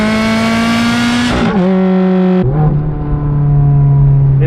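Ferrari F430 with a Fabspeed exhaust and a 6-speed single-clutch F1 gearbox revs hard, its loud, steady engine note dipping twice as the pitch drops, close and continuous with no talk.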